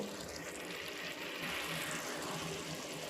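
Masala water being poured into a pressure cooker while making mutton sambar, a steady, fairly faint splashing stream of liquid that runs on without a break, with no talking.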